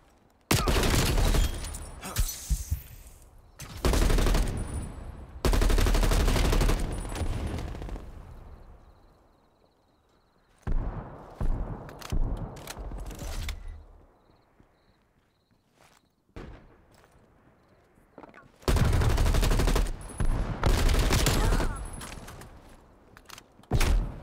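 Bursts of rapid gunfire in Black Ops Cold War free-for-all multiplayer, loud repeated volleys separated by quieter stretches with faint footsteps, no talk.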